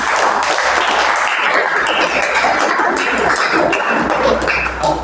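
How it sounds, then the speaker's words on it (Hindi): Loud, dense applause from a classroom of students, a steady wash of many hands clapping together that carries on for about five seconds without pause or talk. "ताली हो जाएगी जोरदार आपको"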